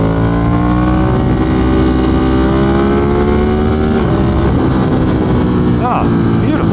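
A 2022 Ducati Monster motorcycle with altered gearing revs hard while being ridden. The loud, close engine note climbs steadily in pitch through the gears, with a dip as it shifts near the end.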